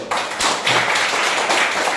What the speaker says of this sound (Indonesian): Sebelumnya kita tepuk tangan dulu.